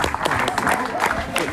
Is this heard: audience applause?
yes